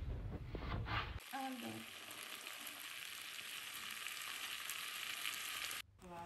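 Potatoes fry in a pan for a home breakfast with a steady, fairly quiet hiss that starts abruptly after about a second, holds evenly, then cuts off briefly near the end.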